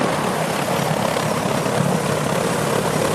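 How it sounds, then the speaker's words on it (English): An Army medevac helicopter runs with its blades rotating during litter-carrying training, a steady close, loud whirring roar of rotor and engine that continues without pause. "carrying the litter to and from the helicopter while the blades were rotating"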